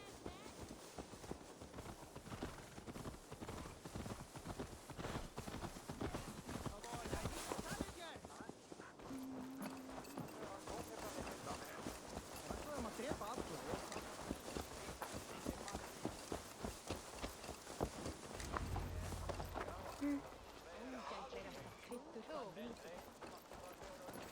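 Horse hooves clip-clop in Assassin's Creed Valhalla, a steady run of hoof beats under continuous game ambience and music, with characters talking over it.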